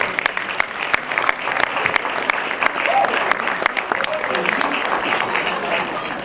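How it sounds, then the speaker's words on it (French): A cinema hall audience at a Moroccan film week event applauds, with crisp, dense handclaps from a sizeable crowd holding steady over several seconds and a few voices faintly underneath. "Je voudrais que la salle lui fasse un applaudissement s'il vous plaît"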